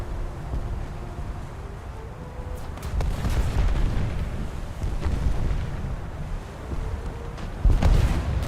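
Heavy naval gunfire from warships in a naval combat video game, a run of deep booming shots rumbling one after another, with a louder blast near the end.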